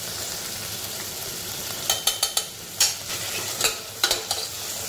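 Onion, tomato and ginger-garlic paste sauté in a pan for a spicy black chickpea curry: a steady close sizzle, with a burst of sharp spatula scrapes and stirring strokes in the middle of the clip. No one talks.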